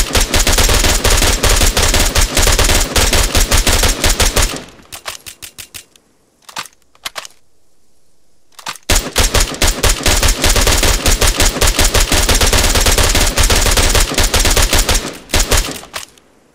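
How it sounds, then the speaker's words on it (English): Sustained automatic fire from short-barreled M4 SBR rifles in an ArmA 3 close-quarters live-fire drill at night: loud, rapid, dense bursts from several guns at once, a brief lull with scattered shots, then another long barrage. "These are M4 SBRs, right? Yes, yeah. They are. They're short barrels."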